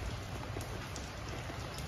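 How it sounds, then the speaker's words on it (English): Steady rain falls in China, a dense, even hiss of drops pattering on surfaces that holds without a break. "We're eating in the rain."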